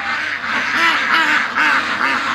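Ducks kept in a pen quack loudly and repeatedly in a rhythmic chorus, close by, with a few overlapping calls.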